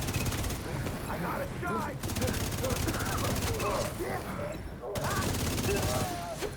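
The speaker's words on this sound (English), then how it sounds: "Just shooting at turrets" Rapid bursts of video game gunfire pound at turrets in sustained volleys with short pauses, loud and close, while a voice talks over the shooting.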